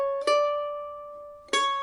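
Mandolin playing the opening bar of a fiddle tune, a short pickup note then a ringing dotted note that sustains before a second plucked note enters, solo and close with no talk.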